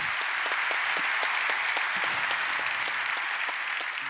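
Steady, full-room applause from an audience at a French presentation after a demonstration, continuous and even for the whole stretch with no talking.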